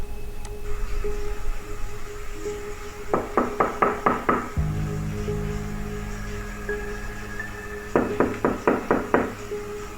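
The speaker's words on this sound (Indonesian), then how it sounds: "Jumlahnya 5 ketukan." Mysterious knocking heard at 3 a.m., sounding as two separate bursts of five sharp, evenly spaced knocks each, fairly loud against a quiet room hum with no talking.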